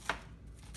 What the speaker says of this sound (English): I'll just cut a small section of it right now and shred it